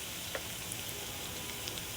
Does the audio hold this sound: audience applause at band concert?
no